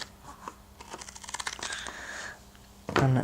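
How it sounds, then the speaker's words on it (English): Scissors snip into heavy 900 gsm PVC coated polyester fabric, a quiet run of crisp, rapid cutting clicks close by, followed by a louder rustle of the material. "if I take a pair of scissors and make a cut in the fabric"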